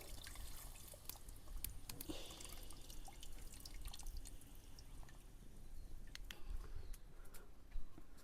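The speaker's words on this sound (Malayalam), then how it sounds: "പുളി ഒഴിച്ച് കൊടുക്കട്ടെ." Tamarind water poured into a cooking pot, faint trickling and dripping splashes running steadily at low volume with no voices.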